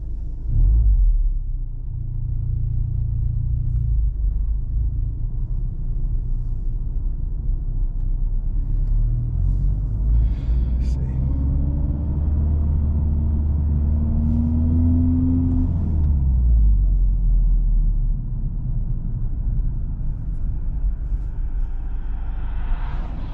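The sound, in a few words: cars driving past on the road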